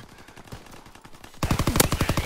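Rapid gunfire from a WW2 shooter video game on the Anthropod map, quieter bursts at first, then a loud, close string of repeated automatic shots filling the second half.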